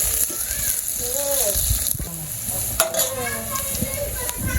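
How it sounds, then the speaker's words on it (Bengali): Onions fry in a pan with a steady sizzle, while a spoon stirs and scrapes intermittently, fairly close. "পেঁয়াজ একটু ভাইজা নেই।"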